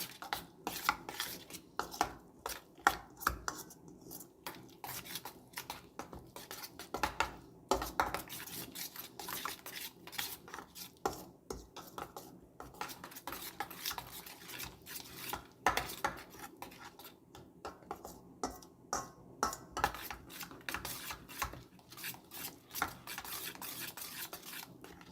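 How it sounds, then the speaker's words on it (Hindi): Red chili and garlic-ginger paste being mixed in a bowl for achar gosht, giving steady scraping and clinking of a utensil against the dish, continuous and close, with no talking. "लाल मिर्च, लहसुन अदरक का पेस्ट और इसको अच्छे से मिक्स कर लेंगे।"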